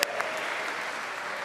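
An audience at a Sacred Harp symposium applauds, a steady wash of many hands clapping that holds evenly throughout, with no voices over it.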